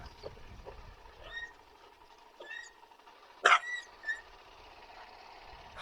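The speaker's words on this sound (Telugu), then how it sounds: "కుక్కలు చూడండి అసలు ఎట్లా వచ్చినాయి" Dogs yelp and bark a few times at a distance, scattered brief calls over a quiet background.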